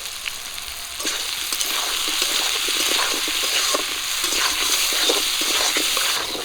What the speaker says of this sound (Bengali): পেঁয়াজের সঙ্গে আলুটাও একটু ভেজে নেব